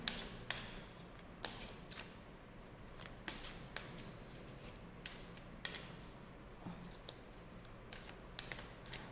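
Major arcana tarot cards being shuffled by hand, a run of crisp riffling bursts and soft taps repeating at a loose rhythm, close and fairly quiet with no talking.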